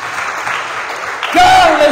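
A church congregation claps and acclaims in a dense, steady wash of applause and cheering, swelling near the end as a raised voice rises over the crowd.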